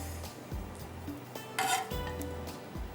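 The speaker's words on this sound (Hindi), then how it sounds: "तवे के ऊपर आपने इसको फ्राई करना है" Onion, green chili and coriander paste frying on a tawa, with a metal spatula scraping and clinking against the pan every half second over a low sizzle, with a brief louder hiss in the middle.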